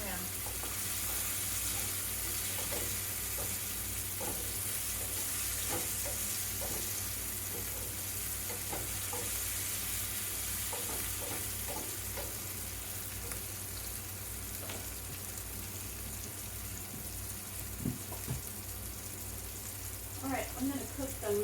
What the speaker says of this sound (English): Salt. Some pepper. Stir it around, Suzzie.